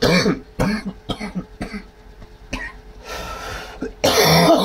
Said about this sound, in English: my idea was not to cough until my lungs nearly collapsed